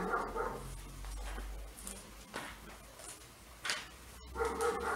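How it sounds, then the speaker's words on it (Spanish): Several dogs bark and yelp intermittently in the background, fairly distant, scattered sharp bursts over a steady low hum, with no talking. "Espero que esos perros no se escuchen porque son insoportables"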